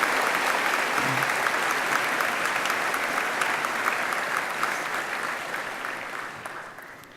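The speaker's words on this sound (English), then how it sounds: "please join me in a round of applause to thank all those people who have helped you along the way" A graduation-ceremony audience applauds, a dense sustained clapping that fills the hall and gradually tapers toward the end, with no voices over it.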